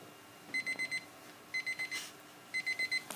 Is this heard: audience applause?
no